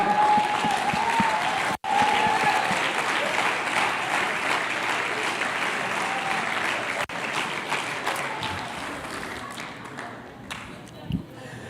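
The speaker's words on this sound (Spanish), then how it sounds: "Dele un aplauso al Señor." A church congregation applauds during a sermon, with loud sustained clapping mixed with a few sharp thumps and some voices underneath, fading toward the end.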